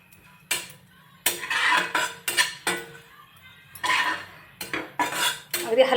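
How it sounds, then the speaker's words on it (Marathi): Dried coconut roasts in a dry pan as a metal spoon stirs it, giving bursts of scraping and clinking in uneven strokes with brief pauses, close and clear. "हे पवाटी खोबरं आहे हे मी परतून घेते व्यवस्थित"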